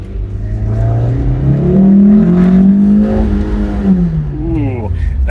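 Small car engine pulling hard under acceleration, a loud rising engine note that climbs steadily and then eases off, with the battery loosely strapped in the engine bay and weak brakes; someone speaks over it.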